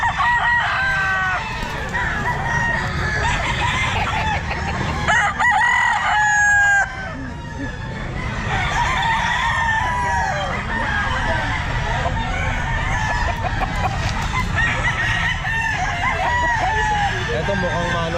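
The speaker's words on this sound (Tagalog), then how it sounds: "Mga manok na siya." Chickens at an outdoor pet market cluck and crow continuously, several birds close by and loud, with people talking underneath amid general crowd bustle.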